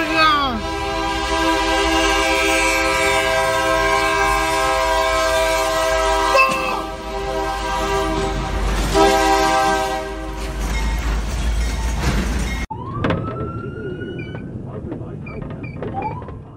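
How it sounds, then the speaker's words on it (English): A locomotive sounds a loud, sustained multi-tone horn as it rapidly approaches, with heavy rail rumble underneath, the horn continuing for about twelve seconds before an abrupt cut to quieter train noise and faint voices. "Locomotive headlights rapidly approaching."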